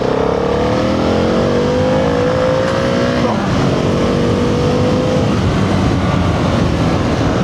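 A BMW G650 XCountry motorcycle pulls hard in second gear on a road, its loud, close engine note climbing steadily in pitch, easing briefly, then rising again under wind rush.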